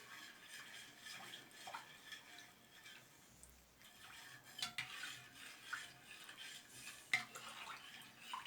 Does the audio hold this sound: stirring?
yes